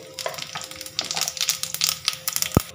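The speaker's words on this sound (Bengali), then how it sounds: "ফোড়নটা এখানে আমার লাল করে ভাজা হয়ে গেছে" Bay leaves, dry chillies and cumin seeds fry in hot mustard oil with close, irregular crackling and popping bursts, ending on a single low thump.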